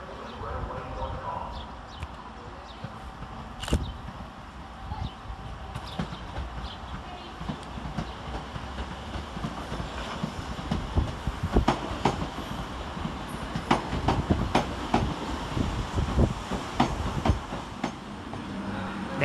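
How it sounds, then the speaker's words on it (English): A Southeastern Class 375 electric train arrives to terminate at Strood railway station, with wheel clatter, rumble and sharp rail clicks building over time, heard at a moderate distance in an outdoor platform setting. "Arriving to terminate with a Southeastern service off Paddock Wood is 375"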